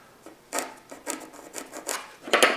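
Short, close scratchy strokes of a pencil or marking tool across wood for a dining table butterfly leaf, about six brief rasping strokes in irregular rhythm, no voice.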